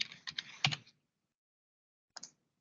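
Close, quiet clicks from a computer keyboard as a short word is typed into a label field, a quick burst of keystrokes, then a pause and two more taps.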